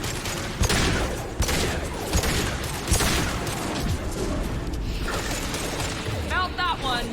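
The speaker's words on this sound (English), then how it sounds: "Firing now." Gunfire from a firefight in Mass Effect 2: a rapid string of sharp shots and mechanical clatter over rumbling battle noise, loud and close, with a voice speaking briefly.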